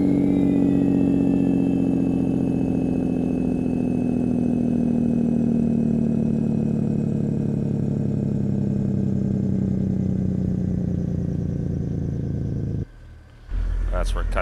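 A Kenworth W900 flatglass truck's diesel engine with its Jake brake cracked, heard from the cab with both windows down: a loud, steady drone that slowly falls in pitch and then cuts out abruptly near the end.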